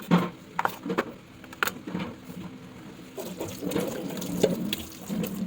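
Raw pork for nilaga is rinsed under running tap water in a kitchen. Faint, close splashing and trickling comes in irregular bursts, with soft knocks from handling.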